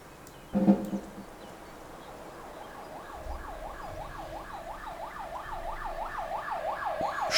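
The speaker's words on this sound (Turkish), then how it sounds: "Ambulans geldi." An ambulance siren arrives at a road accident scene where logs fell onto the road. The wailing, wavering tone grows steadily louder as it approaches, after a brief thump at the start.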